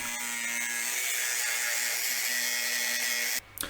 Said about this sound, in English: using my grinder, I cut down the star knob to the required length